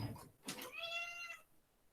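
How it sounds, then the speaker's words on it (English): A cat meows at a closed door, one drawn-out, tonal meow after a brief scuffle of noise, fairly quiet in a calm indoor room. "sorry, I need to open the door for my cat"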